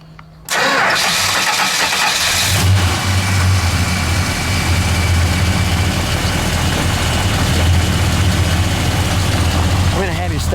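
A 1970 Chrysler 300H Hurst with a 440 V8 starts and settles into a steady, loud, deep idle, a low rumbling drone that holds close and even throughout.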